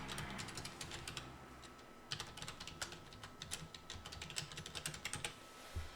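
Rapid typing on a computer keyboard while setting up a Facebook page, dense bursts of close, clicky keystrokes with a brief pause midway and no talking.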